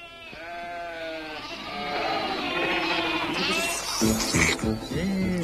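Sheep bleat loudly and close by, with long wavering cries that overlap and break into shorter calls toward the end, backed by an occasional voice.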